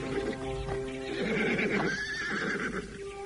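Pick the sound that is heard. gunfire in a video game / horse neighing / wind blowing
horse neighing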